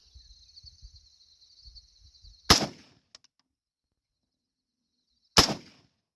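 Two loud, sharp Norinco SKS rifle shots a few seconds apart at an outdoor range, each with a short ringing decay, over a faint high insect-like whine and low rumbles.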